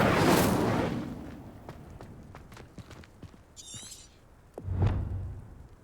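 An Incendio fire spell cast in the video game Hogwarts Legacy: a loud whooshing burst opens, scattered sharp cracks follow, and another deep flaring rush comes near the end.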